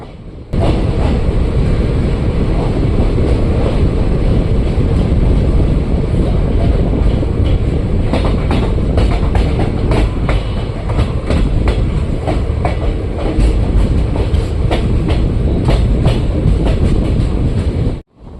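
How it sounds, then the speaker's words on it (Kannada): Kuvempu Express train rolling out of Hassan station, a loud steady rumble with rhythmic clickety-clack of wheels on rail joints running continuously, heard from on board. "ಈಗ ಹಾಸನದಿಂದ ನಮ್ಮ ಟ್ರೈನ್ ಹೊರಟಿದೆ."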